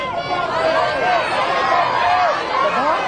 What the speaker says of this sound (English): Now the crowd is telling him what to do, as they always did.